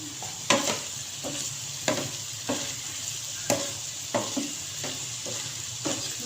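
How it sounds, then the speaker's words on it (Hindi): Egg and potato curry with garam masala being stirred in a frying pan: a sizzling bed under repeated spoon scrapes and knocks against the pan, roughly one every half second to second, close and clear. "अच्छे से मिक्स कर लेना है।"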